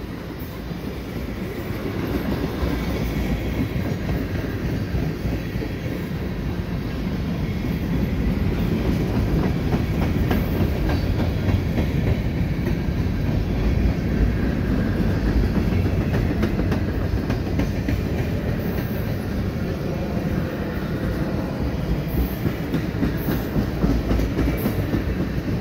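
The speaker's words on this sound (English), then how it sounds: "Tank cars. So there is some mixed freight here." A long mixed freight train with tank cars rumbles past close by, wheels clacking steadily over the rails with a continuous loud roar and occasional faint squeals.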